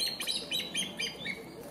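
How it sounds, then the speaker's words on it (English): A male African pied hornbill calling in Gambian forest: a quick series of faint, high piping notes, about six or seven in under two seconds, heard at a distance over soft background. "including this calling male African pied hornbill"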